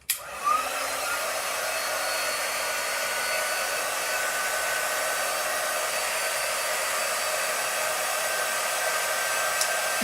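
Hair dryer running continuously to dry a painted craft piece, a loud steady whooshing hum that switches on at the start and holds unchanged, close and alone.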